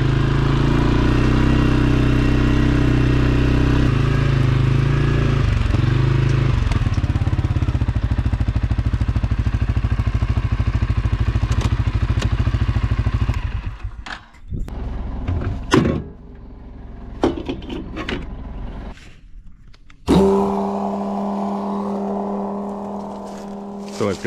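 A ute's engine runs with a loud, steady rumble for about thirteen seconds, then drops away into scattered knocks and clunks before the engine note returns near the end.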